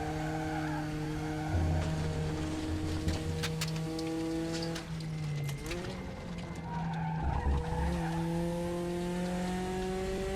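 Porsche 944 Turbo Cup race car in the RaceRoom racing game, steady engine drone with pitch drops on downshifts and tyres scrubbing and squealing through corners, loud and close.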